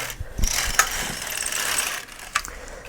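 An LK150 knitting machine carriage is pushed across the needle bed, giving a ratcheting mechanical rattle with clicks at the start and end of the pass, close and clear.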